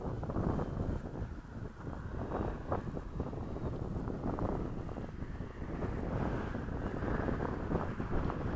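Wind buffets the microphone steadily at an outdoor model jet flying field, a loud low rumble with gusty surges and no voices throughout.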